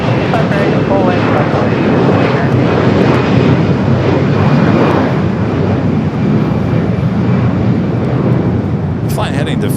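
A321 jet roaring loudly and steadily on takeoff at LAX, a dense continuous engine rumble close by that holds from start to finish, with a voice talking over it.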